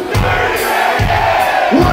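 A live ska-reggae club crowd yells a two-word chant together on cue, loud and massed, with bursts of shouting repeating over a short stretch.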